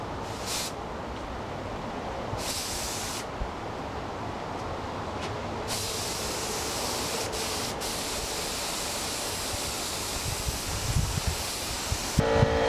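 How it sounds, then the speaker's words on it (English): Strong gusting wind of about 40 mph roars steadily across an outdoor spot during spray painting of a Yamaha FZR motorcycle part, with bursts of hissing spray layered over the broadband rush. "That wind is 40 miles an hour."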